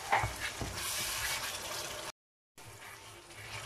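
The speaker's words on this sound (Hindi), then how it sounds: "थोड़ा सा पानी ऐड करके इनको फ्राई करेंगे फिर उसके बाद" Potatoes frying in a pan with spices and a splash of water for a yogurt potato curry, giving a steady close sizzle and hiss that cuts off briefly before resuming.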